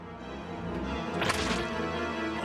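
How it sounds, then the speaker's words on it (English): A great sword lands a critical hit in the Saturn game Virtual Hydlide, a single sharp whooshing slash burst over a low, continuous game backdrop. "what a critical hit right there"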